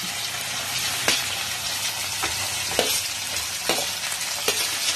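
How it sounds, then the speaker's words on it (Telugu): Onions and tomatoes frying in a pan for a ridge gourd tomato curry, a loud, close, continuous sizzle broken by several sharp scraping stirs, with no voices. "ఉల్లిపాయలు మగ్గిన కొంచెం టమాటాలు వేసుకోవాలి."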